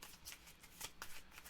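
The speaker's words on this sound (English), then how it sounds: "Shuffle the cards and deal 1 to each player" A deck of board game cards being shuffled for a solo game, several quick riffling bursts close by, with brief pauses between them and no voices.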